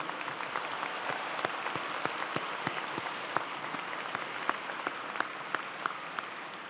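Sustained audience applause at a Georgia Tech College of Engineering master's commencement, a dense, even wash of many hands clapping, with sharper individual claps popping out, steady throughout.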